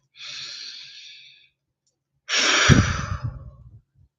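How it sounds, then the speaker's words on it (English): Two deep breaths during an EFT tapping session: a long airy inhale, a pause, then a heavier, louder exhale that ends in a soft rumble, close and with no talk. "Let's take a breath."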